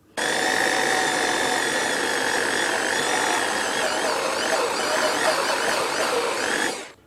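A steady high-pitched whine of a vintage Karger metal lathe drilling a center hole, running continuously with a sharp start and stop, close and loud, no talking.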